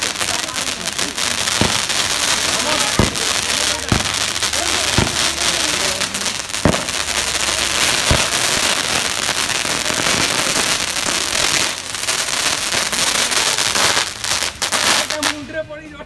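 Diwali firecrackers and fireworks burst continuously in a dense, loud crackling din, with sharp individual bangs standing out every second or two against a constant background of distant explosions; faint voices sit underneath.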